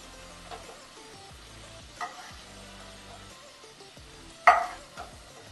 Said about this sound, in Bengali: চিংড়ি মাছ কিন্তু বেশি ভাজা করব না, কারণ সবাই জানেন বেশি চিংড়ি মাছ ভাজা হলে কিন্তু শক্ত হয়ে যায়